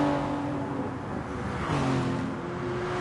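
Race car engines whining as Group A cars lap Tokyo Expressway East Inner Loop in the wet in Gran Turismo Sport, a steady droning engine note with shifting pitch and no talk.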